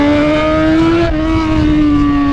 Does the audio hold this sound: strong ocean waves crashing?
no